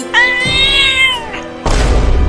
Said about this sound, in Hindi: बिल्ली भी मुझे काटने वाली है